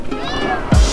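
A cat gives a single short meow close by outdoors in a rural setting, followed by a sharp handling thump.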